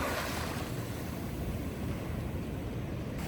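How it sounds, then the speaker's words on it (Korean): Ocean waves wash on a sandy beach at Jeongdongjin, Korea, in a continuous rushing roar, with wind buffeting the microphone. "가만히 서서 파도 소리를 듣고 있는 것만으로도 기분이 좋아지네요"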